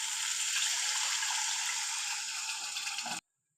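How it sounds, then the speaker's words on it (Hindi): Bottle gourd cooking water poured into cooked masala for lauki kofta curry, a steady rushing splash of liquid hitting the pan for about three seconds, close and fairly loud, then stopping abruptly. "अब इसमें ये लौकी वाला पानी डाल लेते हैं।"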